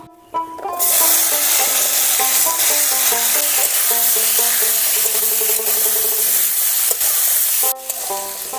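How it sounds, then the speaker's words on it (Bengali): Cut vegetables frying lightly in hot oil in a kadai for Bengali shukto, a steady close sizzle with stirring scrapes running throughout, no voices. "যত রকম সবজি কাটা ছিল এগুলো এবারে ভেজে নেব।"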